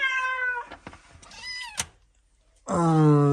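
A cat meows loudly at close range, several drawn-out cries separated by a couple of brief knocks and a short pause.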